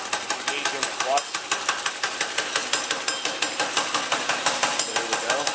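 A small go-kart engine idles without engaging the clutch, chugging in a fast, even, loud rhythm of sharp repeated pulses, close up and steady throughout.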